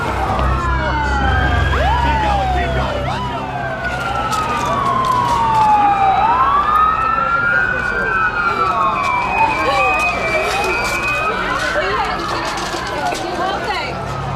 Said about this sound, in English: This ambulance is about 100 feet ahead.